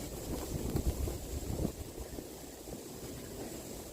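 Blizzard wind sweeping snow in Dnipro, a continuous rough blustery roar buffeting the microphone, louder gusts early then a steadier hiss, with no talk.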